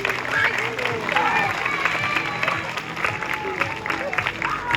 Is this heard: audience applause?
yes